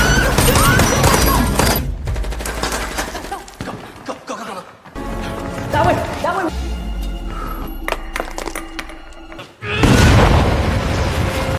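Loud explosive blasts and rumbling booms in a chaotic action scene, with bursts of gunfire-like pops and voices shouting amid the noise.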